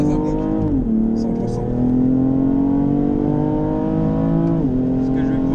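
A Ferrari on a race track accelerates at full throttle, its engine climbing steadily in pitch with clear gear-shift dips, heard from inside the car with a voice speaking over it.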